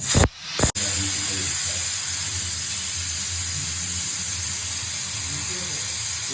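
A faulty pressure cooker with mutton lahori inside, close to bursting, vents steam in a loud, steady, close hiss that runs the whole time, with a brief dip and break near the start.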